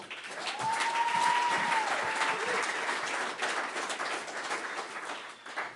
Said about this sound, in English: another round of applause for Heather